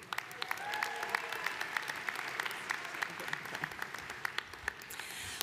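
Audience applause fills a 2023 commencement ceremony as graduating master's candidates are honored: steady, dense clapping from a large crowd, loud and sustained throughout with no speech over it.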